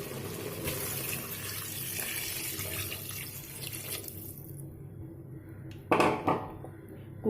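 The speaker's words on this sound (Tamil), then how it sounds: "இப்போ கறிக்கு தேவையான தண்ணி ஊற்றிக்கோங்க." Water is poured from a container into country chicken curry (nattu kozhi) in a cooker. A steady splashing pour runs for about four seconds, followed by near quiet and a couple of sharp clanks of the vessel near the end.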